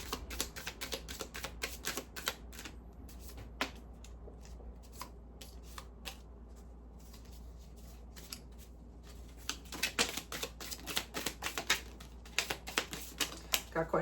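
Tarot cards for a pick-a-card reading being shuffled, a rapid stream of close, crisp card flicks and riffles that thins in the middle then picks up again, with a low steady hum underneath.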